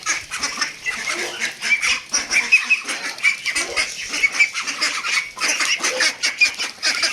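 A flock of ducks and geese honk and quack constantly while feeding, a busy overlapping chorus of close, loud calls with no pause.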